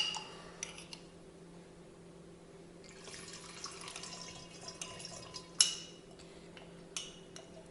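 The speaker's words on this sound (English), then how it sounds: "I'm just going to rinse out the last of the honey from these cups, these jars even" Water trickling and splashing while honey is rinsed out of glass jars, quiet and close, with occasional glassy clinks and knocks against a faint steady background hum.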